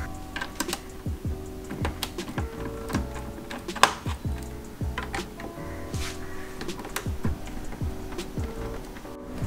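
A size 8 socket unscrews the taillamp screws on a 10th-gen Honda Civic, giving a busy run of small ratcheting clicks and metallic ticks. One sharper clack stands out midway, all close up with no talking.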